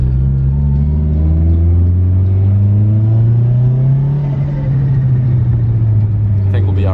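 A Toyota JZX100 climbs a hill, its engine droning steadily close by under load, the pitch gradually rising then settling as the car pulls up the slope.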